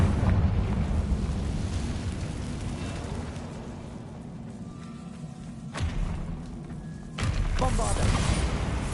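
Confringo fire spell in Hogwarts Legacy blasting in an abandoned castle room, a low rumbling burst with debris crackle, then a second sharper impact later; a voice speaks over it.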